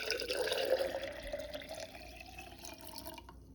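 Water is poured from a container into a jar to dissolve alum for a dye mixture, a close, continuous splashing trickle that tapers off near the end.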